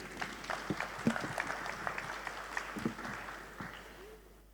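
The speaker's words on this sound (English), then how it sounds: "Big round of applause for my panelists here." Audience applause for forum panelists at a tourism marketing conference session, a moderate, fairly steady patter of claps that fades out toward the end, with little else underneath.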